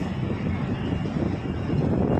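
Strong wind buffets a ferry crossing rough sea on the way back to Dipolog, a steady low roar of gusts and rushing water with no voices.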